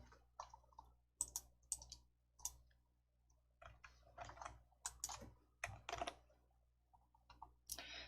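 Computer keyboard typing during a Korean word-processor lesson: a run of close, crisp key clicks in irregular bursts, with a few heavier single keystrokes like the Enter key, and no talking.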